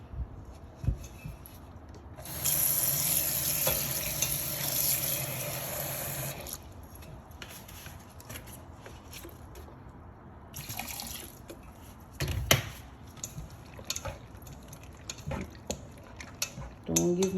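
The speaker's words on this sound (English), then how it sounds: "I'm gonna just wash it one more time with the vinegar." Running tap water rinses peeled shrimp in a vinegar-and-water wash at a kitchen sink, a steady splashing stream for a few seconds, then quieter dripping and handling clatter nearby.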